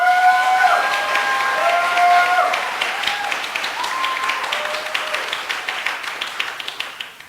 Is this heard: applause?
yes